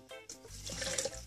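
A short, close pour of water splashing and trickling into chickpea flour in a container, running steadily for about a second.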